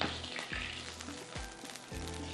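Hot butter and oil sizzle steadily and loudly in a tempering, with a few soft low thumps breaking through the crackling hiss.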